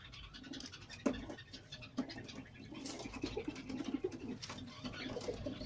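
Teddy pigeons in Pakistan give soft, low coos amid faint scratching and shuffling, with a few sharper clicks and a quiet outdoor background.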